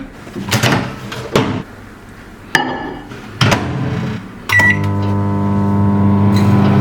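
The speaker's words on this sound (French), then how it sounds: "nous allons emmener ce joli petit bol au micro-ondes" Microwave oven heating a small bowl of butter and chocolate: door clatters and clunks at first, then a steady loud electrical hum with a strong low drone begins and runs continuously to the end.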